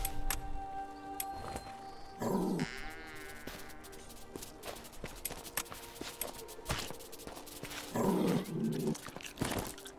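A dog in the video game 1428: Shadows over Silesia, growling faintly and making wet eating sounds amid scattered game noises, with a few louder bursts, fairly quiet overall.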